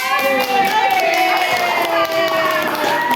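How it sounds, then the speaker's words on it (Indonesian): A classroom of students claps for a classmate, a close, lively burst of hand claps that keeps up throughout, mixed with faint voices and tonal background sound. "tepuk tangan untuk Mas Umar."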